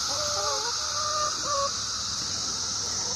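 Chickens cluck in short, broken bursts inside a coop, moderately close, over a steady high hiss of background noise, then fall quiet for the last half of the clip.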